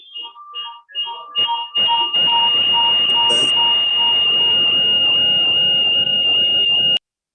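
A phone in a room full of people at a community program rings with short repeated electronic beeps that turn into a steady, loud, high-pitched tone, which cuts off abruptly.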